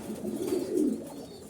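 Banshi Raj Koka pigeons, a parent pair beside their young, give a soft low throaty coo that swells and fades over a moment, close by and alone.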